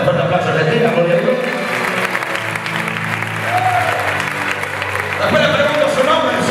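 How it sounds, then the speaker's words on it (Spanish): Church audience applauding loudly for Argentina during a Wednesday sermon, sustained clapping from a crowd with voices talking beneath it, lasting several seconds. "¿Dale un fuerte aplauso a Argentina, por Dios?"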